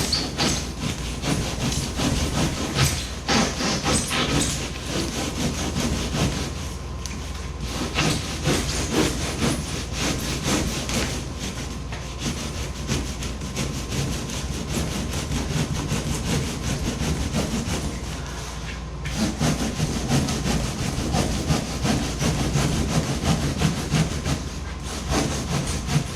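Long, steady strokes of a saw cutting through foam while shaping a homemade 11 ft foam-and-fabric kayak, a close rasping rhythm that runs almost without pause and has a brief break near the middle.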